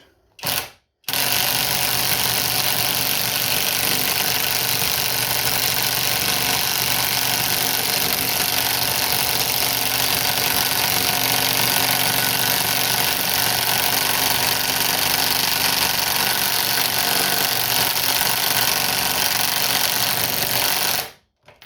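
A 1/2 inch impact wrench with a 3/4 socket hammers continuously on a nut from a 3/4 ton truck, a loud, steady rattling drone lasting about twenty seconds after a short initial burst.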